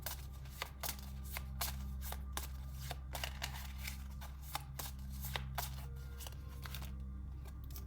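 Chakra oracle cards being shuffled by hand, a quiet close run of crisp riffling flicks and soft slaps repeating in an irregular rhythm over a low steady hum.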